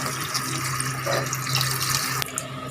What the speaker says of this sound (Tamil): அந்த புளி தண்ணியை வந்து ஊற்றிடலாம்